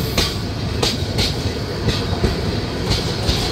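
Paharika Express rolling into Nangalkot railway station, a steady loud rumble of wagons with recurring wheel clicks over rail joints and faint squeals, continuous throughout.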